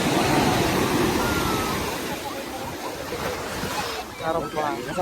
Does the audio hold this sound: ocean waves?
yes